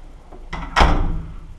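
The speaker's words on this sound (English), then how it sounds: "Fire door open." A fire door in a stairwell swings open during a lock test: a soft click, then a loud, close thud as the door releases, followed by a brief rumbling decay.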